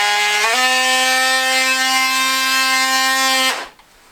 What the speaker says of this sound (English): Got your detail sanding head on there.